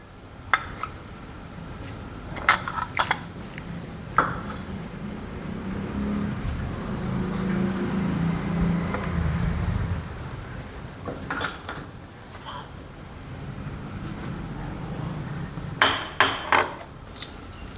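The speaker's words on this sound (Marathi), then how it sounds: "तेल आता गरम होत आहे आणि मी त्यामध्ये मोहरी घालते" Mustard seeds hit hot oil in a kadai while a vegetable dish is being made, giving scattered sharp pops and metallic clinks over a low sizzling background, close and fairly loud, with no talking.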